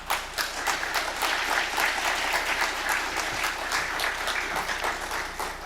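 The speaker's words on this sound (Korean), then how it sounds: "우리 선교사님 나오실 때 큰 박수로 환영해 주시기 바랍니다" A church congregation applauds steadily to welcome a missionary during a Wednesday worship service, dense continuous clapping from a full room holding an even level throughout.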